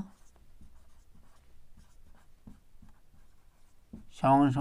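Pen scratching on paper in short, regular strokes while working out a Class 11 permutation maths problem, soft and close beneath a teacher's spoken explanation.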